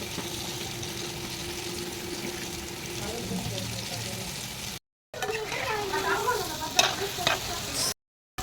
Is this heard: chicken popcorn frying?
yes